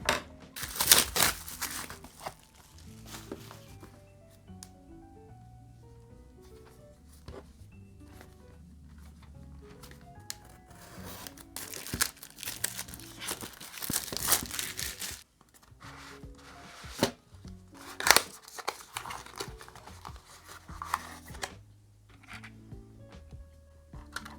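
Packaging of a GAN 251 M Pro 2x2 puzzle cube crinkles and rustles as it is opened, with scattered close crackles, tears and clicks in irregular bursts and quiet gaps between.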